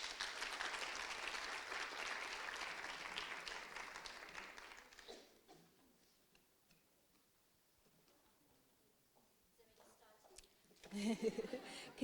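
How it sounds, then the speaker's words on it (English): Audience applause at a gender equality event, filling the first five seconds before dying away into near silence, with a brief burst of sound returning at the end. "Please give them a round of applause."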